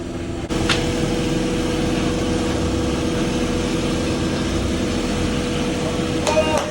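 Honda H23 engine freshly swapped into a Honda Prelude, running steadily on its first start with a loose power steering belt, a constant close droning hum with a faint whine, under occasional voices.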